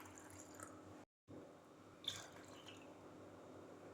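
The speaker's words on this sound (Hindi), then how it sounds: "इसमें 2 गिलास पानी ऐड करेंगे" Two glasses of water are poured into strained mint lemonade, a nimbu pudina sharbat. The liquid splashes and trickles steadily close by, with a short break and then a brief clink.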